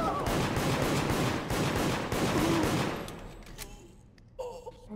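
Gunfire in the video game Deceit: a loud, rapid burst of repeated shots for about three seconds, then it cuts off into near silence with a few faint clicks and thumps.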